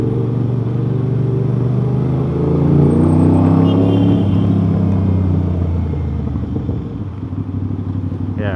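An Aprilia RS660 motorcycle with a new aftermarket exhaust gives a loud, deep exhaust rumble that swells into a brief rev around the middle, then settles back to a steady low idle, with no talking.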